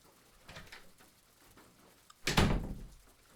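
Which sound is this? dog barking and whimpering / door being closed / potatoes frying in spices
door being closed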